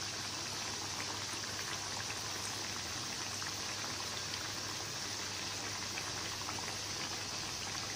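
Potato smileys deep frying in hot oil, giving off a dense, steady bubbling and crackling that runs unbroken and close throughout, with no talking.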